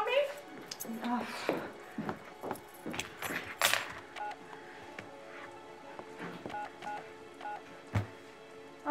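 A telephone is dialed, its button tones sounding in short separate beeps amid rustling and handling noise in a quiet room.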